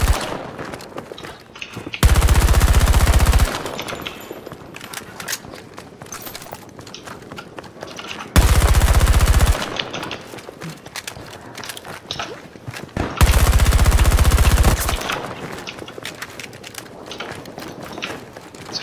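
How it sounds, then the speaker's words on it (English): Three loud sustained bursts of automatic gunfire in Battlefield 2042, each lasting a second or two, fired at a fleeing enemy, separated by quieter stretches of footsteps and game ambience. "Quit running away while I'm shooting you."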